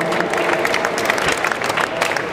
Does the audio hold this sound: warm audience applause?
yes